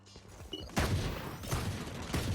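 A Killjoy turret in Valorant fires in a quick burst, then more rapid shots crack out in clusters, loud and close amid game noise.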